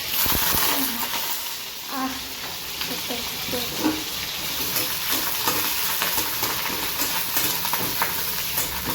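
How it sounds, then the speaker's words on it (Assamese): Onion drops into hot oil in a home kitchen and fries with a loud, steady sizzle, broken by clattering stirring strokes and occasional spoon scrapes close by. "তেলটো গৰম হ'ল পিঁয়াজটো দি দিওঁ"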